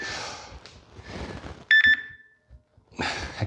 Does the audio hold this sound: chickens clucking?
no